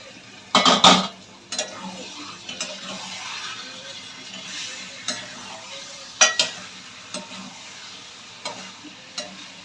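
Meat dropped into spiced masala frying in oil in a pot, with a burst of sizzling and clattering at the start, then quieter sizzle and occasional stirring clinks against the pot.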